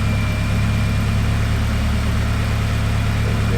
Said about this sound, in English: I'm just going to start the car up now and see if it kicks in. Right, so engine's running